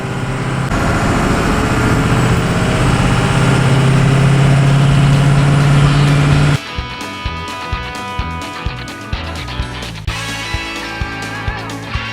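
A Chevrolet Nova engine drones steadily at highway speed, loud and continuous, then the sound shifts abruptly to a quieter cabin with rhythmic clicks and knocks over a softer engine hum.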